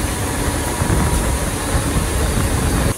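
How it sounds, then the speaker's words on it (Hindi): MEMU express train from Haridwar toward Yamunanagar stopped at Sarsawa station, a loud, dense rumble of the train and surrounding station noise filling the whole moment without letup. "सरसावा रुकी है ट्रेन"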